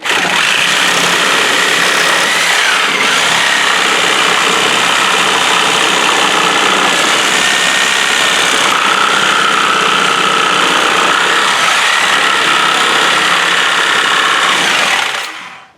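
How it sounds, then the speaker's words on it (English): Sawzall reciprocating saw cutting through pallet wood, a loud continuous buzzing rasp held for about fifteen seconds with slight shifts in pitch, close by, then stopping abruptly. "Just take your Sawzall."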